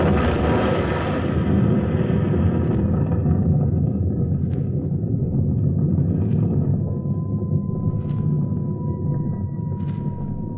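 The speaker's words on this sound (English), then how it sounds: "You'll hear the sound of the explosion any second now." A sci-fi radio drama sound effect of an explosion, heard as a sustained, loud, broad rumble with a low roar that slowly fades, several faint pulsing tones rising through it.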